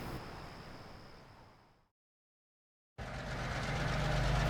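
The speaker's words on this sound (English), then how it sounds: "was woken by the sound of diesel engines" Diesel engines rumble in a low, steady drone that fades away into a second of silence, then return abruptly louder and keep building.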